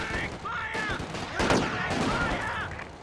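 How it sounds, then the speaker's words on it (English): World War II real-time strategy battle gunfire: rapid rifle and machine-gun shots crackle in the distance, with one sharper burst, under shouted commands and radio-style voices. "Those are bullets passing you by."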